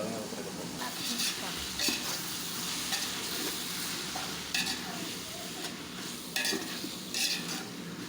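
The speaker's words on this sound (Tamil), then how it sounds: "இப்போ மல்லி புதினா ரெண்டையும் ஆட் பண்ணி மறுபடியும் நல்லா வதக்கி விட்றோம்" Coriander and mint leaves being sautéed in a pan with softened tomatoes for mutton dum biryani: a steady close sizzle with repeated scraping stirs of a spoon across the pan.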